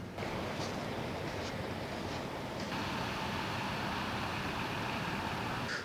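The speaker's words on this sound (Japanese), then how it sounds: "なので波も穏やかですね。" Continuous broad rush of calm surf on a sandy beach in a sheltered bay at Tōyō, Kōchi, Japan, gentle and even, mixed with wind buffeting the microphone.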